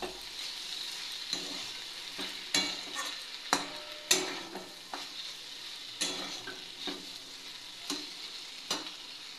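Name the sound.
stir-frying ridge gourd and potato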